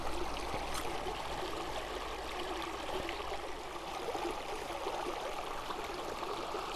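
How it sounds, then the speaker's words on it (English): Water boiling in a GSI Halulite 1.1L boiler gives a steady, faint rushing bubble and hiss that carries on evenly throughout, with no speech. "we got our boiler rocking over here. Got a nice boil going there."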